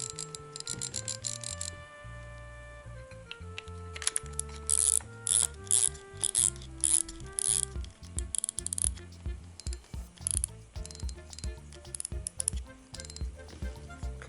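A spool goes onto a Daiwa Prorex V LT spinning reel with a run of close mechanical ratcheting clicks and gear ticks, steady and fairly loud, with no talk.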